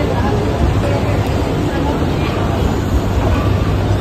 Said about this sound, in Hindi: ये मुंबई की फर्स्ट लोकल